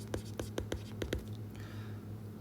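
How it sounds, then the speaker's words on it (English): Pen writing out a math expression on paper, six or seven quick scratchy strokes close by, then a softer trailing scrawl over a low steady hum. "I think I better write it for you."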